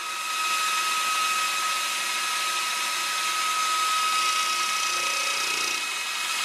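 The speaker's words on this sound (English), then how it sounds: "Okay, then I'll go in some and I'll just take a facing cut" A lathe takes a facing cut on aluminum with a steady, high whine and thin tonal ringing that holds evenly for several seconds, close and alone with no talk.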